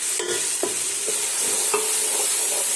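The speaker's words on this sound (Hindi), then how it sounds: "अच्छे से मिक्स कर लेते हैं" Ground garam masala and black pepper are stirred in a hot pan for aloo matar pulao. A loud constant sizzle is broken by four or five distinct scraping strokes of the spoon, with no voices.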